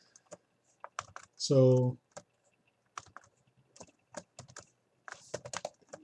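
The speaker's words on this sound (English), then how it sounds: "it's just me just using my other hand on the keyboard" Computer keyboard keys clack in quick irregular bursts while someone draws digitally, close and crisp, with a brief spoken word in the middle.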